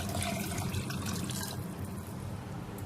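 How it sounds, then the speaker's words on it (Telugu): Water poured into a pot of rice on a stove turned down to low, a steady splashing pour running close and continuous, easing slightly toward the end. "ఇప్పుడు స్టవ్ సిమ్లో పెట్టేసి వాటర్ మొత్తం దీంట్లో పోసేయాలి"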